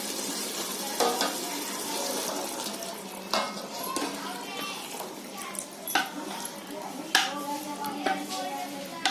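Water poured into a pot of Konkani chicken curry, with a steady sizzle and bubbling stirring noises throughout, some sharper clatters, and a voice talking intermittently over it.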